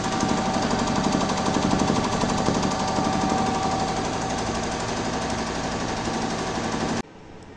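An embroidery machine runs the outline of a design, a loud, rapid, continuous stitching clatter that goes without a break for about seven seconds and then stops abruptly.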